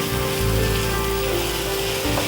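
Pieces of tomato sizzle in a hot frying pan, a dense, continuous crackle and hiss that stays loud and steady through the short moment with no voice.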